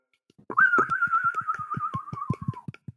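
A person whistles one long, slightly falling note, close and clear, while soft taps and clicks sound underneath.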